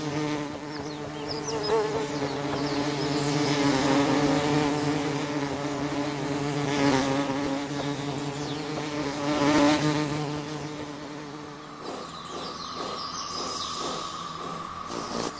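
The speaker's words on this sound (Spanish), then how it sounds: "cuando los visitantes son abejas y avispas, la cosa cambia" Bees and wasps buzz close by at flowers in a hummingbird feeding territory. The droning hum is continuous and wavering, with several insects overlapping and shifting in pitch.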